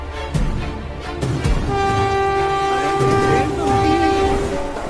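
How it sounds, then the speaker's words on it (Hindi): A train rolls through a station without stopping, its horn blaring in long sustained tones over the loud rumble and clatter of wagons passing close by. "अरे ये ट्रेन तो रुकी ही नहीं"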